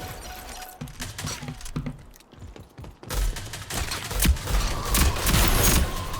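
Rapid bursts of automatic gunfire and sharp impacts in the online shooter game Rogue Company, loud and dense with brief pauses and near-continuous firing in the final seconds.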